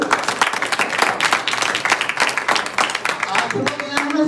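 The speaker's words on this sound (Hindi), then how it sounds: "ताली हो गई।" Audience at an award ceremony applauding a prize winner, many hands clapping in a lively burst with a few voices mixed in, loud and close throughout.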